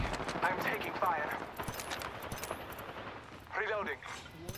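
Gunfire crackles in a chaotic Apex Legends battle royale fight, a few sharp bursts and shots scattered among game effects while character voice lines play over them.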